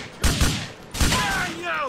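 Gunfire in Grand Theft Auto 4 during a shootout with police comes as two loud, close bursts of rapid shots, with a voice rising near the end.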